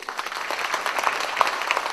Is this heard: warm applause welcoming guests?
yes